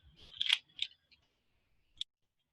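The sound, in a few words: ripping perforated plastic wrap off paint containers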